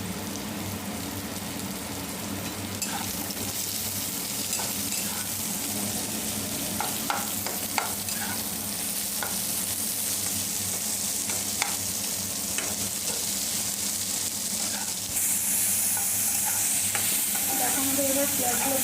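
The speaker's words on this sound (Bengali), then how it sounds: "দেখো আমাদের এবার পেঁয়াজগুলো ভাজা হয়ে গেছে।" Chopped onions frying in a pan for a ghugni curry, a steady loud sizzle with occasional stirring scrapes and clicks throughout.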